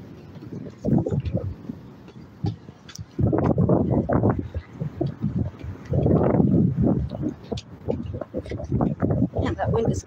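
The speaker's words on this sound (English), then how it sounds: "Wind is kicking." Strong wind at the beach buffets the microphone in loud, gusty rumbling bursts, with speech mixed in.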